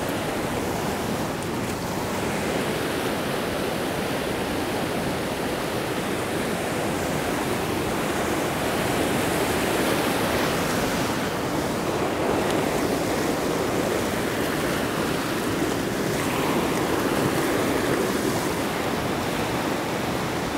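A creek rushes in a constant, loud, broadband wash of flowing water that stays steady throughout with no voices.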